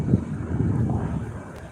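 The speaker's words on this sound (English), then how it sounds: "It's that windy." Strong wind buffets the microphone outdoors in England, a continuous low rumbling roar with gusty swells and no talk.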